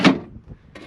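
A drawer in a home storage unit pulled open, starting with a sharp wooden knock and followed by a short soft slide and a faint bump, close by.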